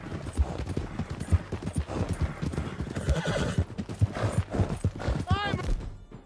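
Horse from Red Dead Redemption 2 clip-clopping steadily through most of the stretch, then letting out a clear rising whinny near the end, with shouting voices and game chatter mixed underneath.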